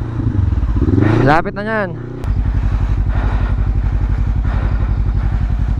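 An off-road motorcycle on a mountain trail idles with a steady, close, rapid putter after a brief rising rev, while people talk over it.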